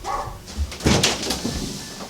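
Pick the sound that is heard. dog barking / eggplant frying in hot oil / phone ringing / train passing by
dog barking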